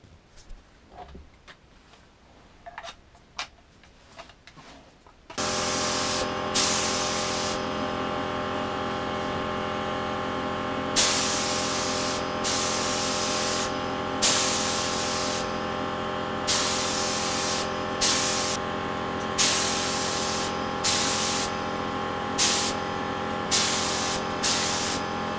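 A painting rig sprays paint in a continuous loud hiss that starts abruptly after a few seconds of quiet handling noises. The steady spray carries regular short surges at roughly two-second intervals, close and with no voices.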